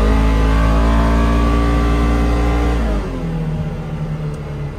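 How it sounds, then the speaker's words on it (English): A 2024 Polaris Xpedition XP 1000 side-by-side with its 1000 cc engine, pedal floored in comfort mode. A loud, close engine roar climbs in pitch, then shifts to a lower, steadier drone partway through, with no speech. "now at that point I did have the pedal the whole way to the floor"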